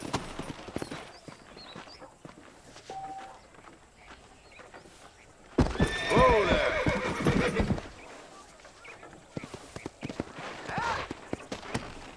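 A horse neighs and whinnies loudly partway through, with clip-clop hoofbeats and ambient game sound around it, in the Red Dead Redemption video game; dialogue voices occur elsewhere.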